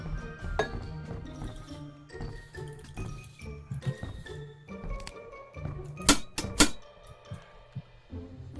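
Metallic clinks and clangs of a pan in the Granny Simulator video game, several sharp hits with two loud strikes near the end, over low game background sound.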